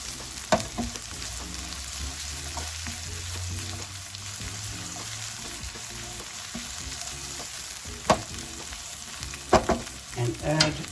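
Egg and chicken fry in a pan under a constant, even sizzle, with a few sharp clinks and scrapes from a utensil near the end.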